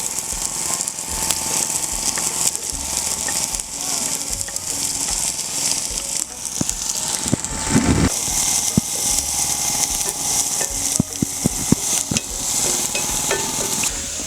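Chopped onion, green chillies, ginger, garlic and curry leaves sauté in hot oil, a continuous sizzle broken by the scrape and clatter of a spoon stirring against the pan, with a few louder knocks midway.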